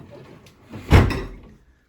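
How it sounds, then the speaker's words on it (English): Front door of an old house, painted black, swings and shuts with a single solid thump near the middle, preceded by faint shuffling and followed by a short fading rattle. "onto the old deck, front porch, and through the front door painted black for God only knows why."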